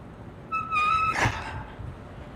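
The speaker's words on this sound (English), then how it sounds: "You can hear my brakes squeaking." Bicycle brakes give a brief high-pitched squeal while slowing on a downtown Milwaukee ride, a single tonal squeak ending in a short scrape, fairly quiet.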